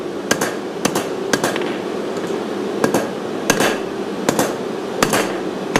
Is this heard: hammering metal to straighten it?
yes